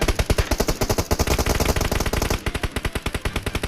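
Sustained automatic gunfire in the mobile game PUBG Mobile, a loud, unbroken string of rapid close shots in an even rhythm that continues throughout.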